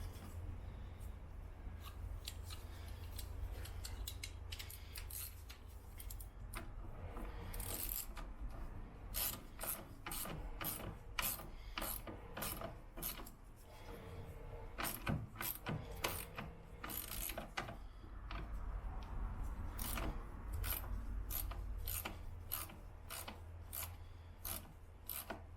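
Fitting on the fuel filler pipe of a Peugeot Partner being tightened by hand, with a steady run of close rasping, ratcheting clicks and rubbing over a low background hum.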